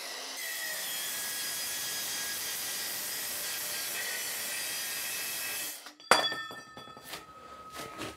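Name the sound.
Bosch GKM 18V-50 cordless metal circular saw cutting steel tube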